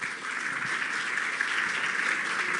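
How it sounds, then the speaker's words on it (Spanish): A conference audience at an economic forum gives a short, steady round of applause that continues without a break. "Creo que lo despedimos con un aplauso."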